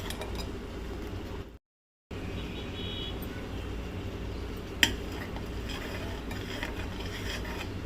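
A spoon works a pan of Goan clam tival curry over a gas flame, giving faint scraping and bubbling with one sharp clink against the metal. A steady background hiss runs throughout, and no one speaks.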